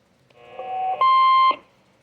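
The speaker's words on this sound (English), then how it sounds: "Obviously it has a Roger beep." A two-tone roger beep from a Top Gun Quad 5 radio on a bench test sounds alone and loud: a lower electronic tone steps up to a higher, brighter tone, then cuts off.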